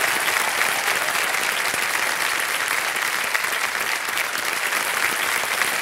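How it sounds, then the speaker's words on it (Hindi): A studio audience on a televised quiz show breaks into steady, dense applause lasting about six seconds, loud and even throughout with no talk over it. "तालियां बज जाए जोरदार।"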